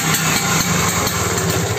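A 1973 Vespa Super scooter engine runs loud and close, a continuous rattling two-stroke idle with a tinny, can-like clatter and no pauses.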